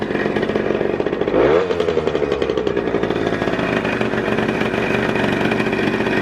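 A Chart Typ 210 scooter engine starts and runs steadily, a loud buzzing two-stroke-like drone with a brief rev near the start, heard up close with no talking.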